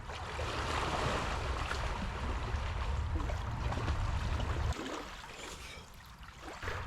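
Open water sloshing and splashing steadily around a person going for a swim in chilly lake or sea water during a trip through northern Finland, loud and close with no talk.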